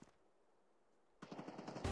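Video game gunfire for a headshot: after a near-silent stretch, a loud rapid burst of shots rattles close by, ending in a sharp, heavier blast.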